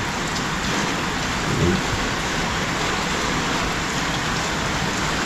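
Steady rain pours down outdoors during a mushroom-gathering trip, a dense, even hiss that runs unbroken from start to finish with no voices.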